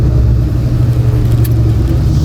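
Terminator Cobra fitted with a VMP Gen 3R supercharger, its engine giving a steady, loud low rumble from inside the car, droning evenly with no clear revs.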